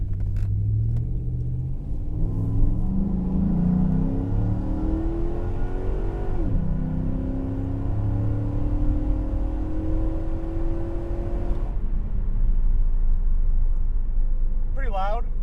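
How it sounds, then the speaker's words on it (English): Jeep Commander HEMI with a custom true dual exhaust accelerating from a takeoff with the windows up, a loud, deep rumble rising through gear changes over about fifteen seconds, heard from inside the cabin. "I'll do a quick takeoff here with"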